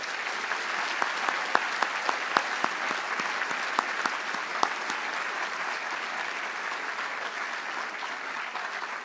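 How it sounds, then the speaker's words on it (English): An audience at a school graduation closing ceremony applauds steadily, a dense wash of many hands clapping with a few sharp close claps standing out, sustained throughout without talk. "If we could give a little round of applause for all those people."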